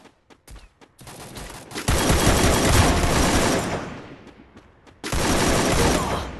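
Rapid automatic gunfire from a competitive ranked online shooter, loud and close, with a few isolated shots leading into a long sustained burst that tapers, then another dense burst after a brief gap.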